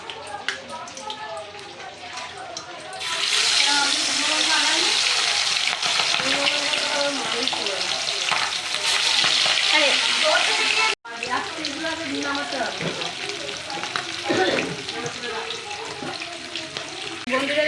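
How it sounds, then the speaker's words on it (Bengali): Fish frying in hot oil gives a loud, steady sizzle that bursts in suddenly, holds bright and crackling, and breaks off briefly before continuing. "তো বন্ধুরা দেখো আমি মাছ ভাজবো, তেল গরম করতে বসিয়ে দিয়েছি, তেল গরম হয়ে গেছে"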